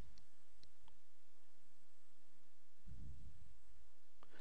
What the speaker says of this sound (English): Doing a few different issues with my mouse clicks.